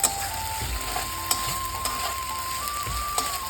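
Ginger, cumin and coriander paste frying with onions in a pan for an egg masala curry, a steady close sizzle with a few soft clinks and scrapes of stirring, no voices.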